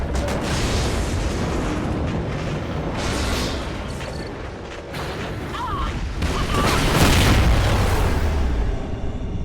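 A space station is scuttled by detonation in Call of Duty: Ghosts, producing heavy rumbling booms and grinding, crumbling blasts, with voices speaking over the chaos.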